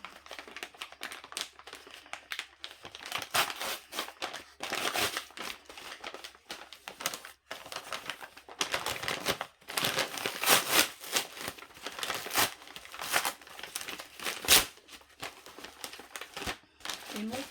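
An Amazon parcel is opened at close range, with plastic packaging crinkling and rustling in irregular bursts throughout. Someone speaks at moments between the sounds.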